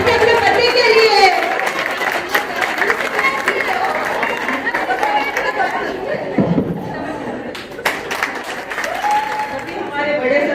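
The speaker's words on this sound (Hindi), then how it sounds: "ताली बजाइए अपने पति के लिए।" Audience applause for husbands at a women's empowerment award ceremony in a hall, sustained clapping mixed with crowd chatter and some chuckles, voices audible throughout.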